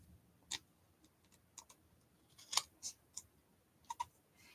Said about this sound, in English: I'm going to trim it by turning it over because I can see that nice straight edge, and just take my scissors